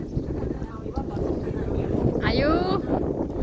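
Strong wind buffets the microphone in a continuous loud roar while someone talks and laughs over it.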